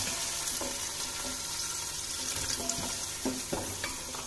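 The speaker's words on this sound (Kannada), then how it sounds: "ಹುಣಸೆ ರಸ ಹಾಕಿದ್ಮೇಲೆ ಚೆನ್ನಾಗಿ ಕುದೀತಾ ಇದೆ." Tamarind juice bubbles and sizzles softly in a pot with fried onions, chillies and curry leaves while bisi bele bath is cooked, a quiet steady simmer with occasional stirring clinks.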